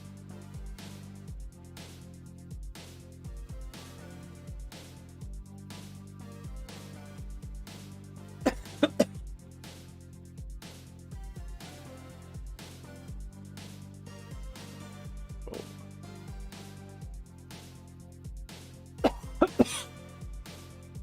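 Two short clusters of sharp coughs, a lingering cough, break through steady rhythmic background music, each lasting under a second and spaced about ten seconds apart.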